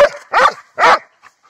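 Three loud, sharp dog barks in quick succession, close by, followed by a couple of faint short yips.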